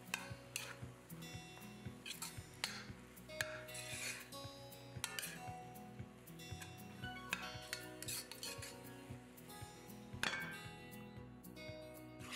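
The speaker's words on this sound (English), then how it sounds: "In goes the mushrooms. I'll stir it for about 1 minute and then I'll cover the pot" A utensil stirs mushrooms in a cooking pot, giving quiet, irregular scraping and clinking taps against the metal over a faint background, with no talking.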